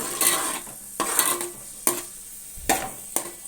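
Sliced onions and green chillies frying in about a quarter cup of hot oil, with a sizzle under five sharp spoon-against-pan scrapes and clanks spaced roughly a second apart.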